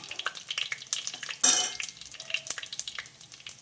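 Whole spices, including cinnamon stick, star anise, cardamom, cloves and shahi jeera, frying in oil for pulao, a light, uneven crackling sizzle with scattered pops and a short louder burst partway through.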